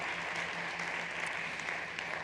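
A startup pitch competition audience at South Summit 2021 gives a steady wash of applause, quiet and evenly sustained throughout, with no talk over it.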